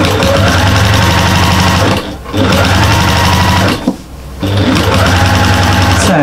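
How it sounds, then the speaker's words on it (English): A sewing machine stitches soft bias binding onto a fabric bag, running in loud, steady bursts of rapid mechanical chatter with two short pauses between runs, no talk. "So we're just literally stitching our binding now."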